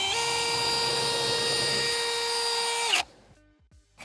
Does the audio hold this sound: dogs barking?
no